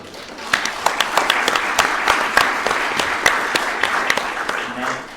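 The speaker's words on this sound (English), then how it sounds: "Big clap for Colin." A crowd claps for a speaker at a coaching launch event, with sharp individual claps standing out over a steady bed of applause throughout.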